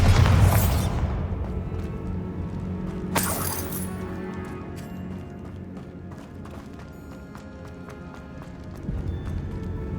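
The Bombarda spell from Hogwarts Legacy blasts a barricade, opening with a loud burst and a second sharp explosive crack, then rubble clattering and settling over a low rumbling game ambience.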